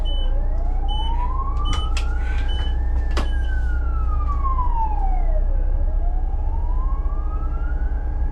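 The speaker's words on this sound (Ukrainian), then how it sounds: "Швидка десь їде, ага, от, ось вона" An ambulance siren sweeps slowly up and down over a loud, constant bus engine rumble, heard from inside a bus driving in winter in Uzhhorod, with a few short clicks and knocks along the way.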